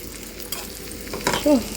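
Eggplant pieces fry in a pan with a close, steady sizzle, broken briefly by a couple of louder scraping bursts near the end.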